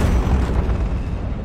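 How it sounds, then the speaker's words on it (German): A deep, rumbling explosion booms through a Destroy All Humans! game scene, a loud, dense low roar that holds for over a second before easing slightly, with no voices. "Uli, was ist das für eine Explosion?"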